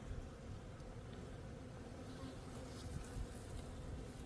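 Honey bees in an open hive at an apiary during a spring brood check, a steady, dense buzz filling the clip at an even level with no talk.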